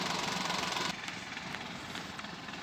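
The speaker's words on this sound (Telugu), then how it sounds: "ఇంజన్ సౌండ్ చాలా స్మూత్గా ఉన్నది." A petrol and CNG Maruti Suzuki Alto 800 LXI engine idles smoothly in a steady, even hum. A louder stretch in the first second gives way to a quieter idle, with faint ticks over it.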